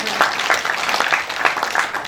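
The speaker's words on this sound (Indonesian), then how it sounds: "Gak ada tepuk tangannya buat Tuhan Yesus" Applause breaks out from a congregation during a church worship service, a steady wash of clapping in bursts across the whole stretch, with voices mixed in.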